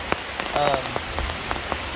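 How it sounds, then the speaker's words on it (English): Heavy rain drumming on a camping tarp in the mountains during a thunderstorm, a close, dense patter with scattered sharper drops and a few brief knocks. "since it started raining, I swear on my life, it's already dropped a couple of degrees"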